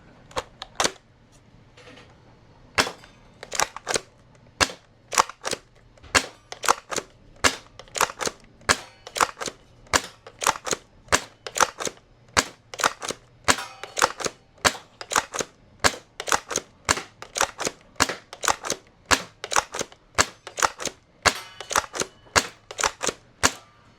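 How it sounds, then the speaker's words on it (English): X-Shot Fury X Hardballer dart blaster firing 18 darts from a slim magazine, producing a long series of sharp, evenly spaced snapping clicks, close and crisp with near-silent gaps between shots. "we're gonna fire all 18 darts downrange and see how the magazine performs in this X-Shot Fury X hardballer"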